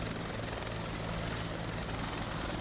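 A helicopter in the military video game Arma 2 drones with a steady, close, continuous rotor and engine roar that stays at an even loudness with no pauses.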